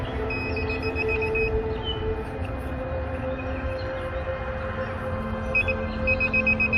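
Rapid electronic metal detector beeps pulse in short runs over a steady low rumble of engine-like background noise, the beeping returning faster near the end.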